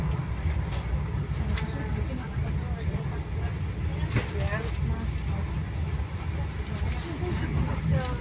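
Steady low rumble of a train rolling along rails in Tel Aviv, Israel, with faint clatters and squeals over the constant drone; a voice murmurs now and then.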